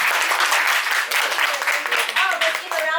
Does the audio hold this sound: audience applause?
yes